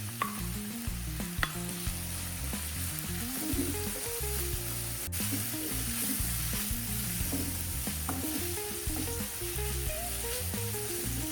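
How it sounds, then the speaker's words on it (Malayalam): Onion, ginger, green chilli, garlic and coconut pieces sizzle steadily in a hot pan while a spoon stirs and scrapes them in repeated strokes, close and continuous with no voices. "ഇപ്പം സവാളയും ഇഞ്ചിയും പച്ചമുളകും വെളുത്തുള്ളിയും തേങ്ങാക്കൊത്തും ഒക്കെ നല്ലവണ്ണം വഴണ്ട് വന്നിട്ടുണ്ട്"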